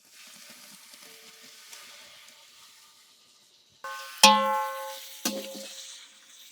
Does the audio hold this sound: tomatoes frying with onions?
yes